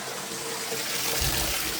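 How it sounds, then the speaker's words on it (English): Hot soapy water runs steadily from a tap into a kitchen sink, a continuous close rushing gush that grows fuller and louder toward the end as the basin fills. "Just run some hot soapy water."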